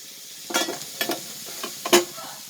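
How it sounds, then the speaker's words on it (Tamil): Freshly picked figs frying with onions in a pan for fig poriyal, several short spatula stirs and scrapes over a light sizzle, close and without any talk. "அத்திக்காயை சேர்த்துடலாம் வெங்காயத்தோட. அத்திக்காய் பொரியல் பண்ணிகிட்ருக்கேன்."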